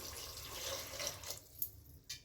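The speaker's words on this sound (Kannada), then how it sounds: "ನೀರು ಹಾಕೊಬಿಡೋಣ" Water poured into dal in a pressure cooker: a faint, hissing pour that tails off into a few separate drips, close and quiet, with no talking.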